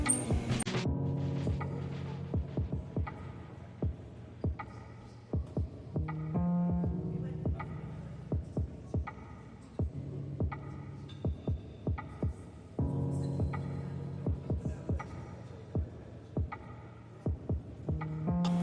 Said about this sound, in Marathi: इथे मी स्मॅश करून घेत आहे स्मॅशरनी